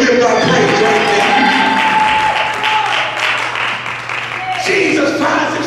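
A church congregation clapping and cheering in praise, loud and sustained, with a voice speaking over the applause partway through.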